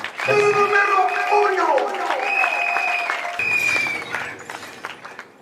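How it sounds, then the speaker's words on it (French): Guests at a wedding reception applaud the evening's champions, loud sustained clapping over singing or ululating voices and a sustained musical tone, fading out toward the end. "Je demande aussi d'applaudir les champions de la soirée, M. Gédéon Mangwala."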